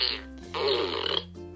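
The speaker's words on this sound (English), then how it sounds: "that's some juicy fart" A Minions toy that shoots water mist lets out a wet, juicy fart-like burst lasting under a second, fairly close and loud, with no talking over it.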